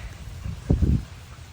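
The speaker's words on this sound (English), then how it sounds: "And it is raining." Steady rain hisses softly throughout at a campsite, with a brief louder swell of low rumbling, distant thunder, near the middle.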